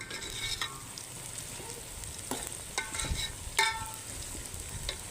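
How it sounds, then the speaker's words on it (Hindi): A wood fire burns strongly under an outdoor tandoor-style cooking setup in Karachi, with a low steady rush broken by scattered sharp crackles and pops. "आग बड़ी तेज़ हो गई है, अच्छी हो गई आग।"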